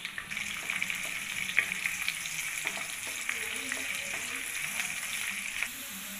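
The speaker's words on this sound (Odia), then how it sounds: "ପିଆଜକୁ ଲାଲ କରି ଭାଜି ନେବା।" Sliced onions frying in a hot pan for Odia chicken kasa give a steady close sizzle and crackle, with scrapes and clinks of a spatula stirring throughout.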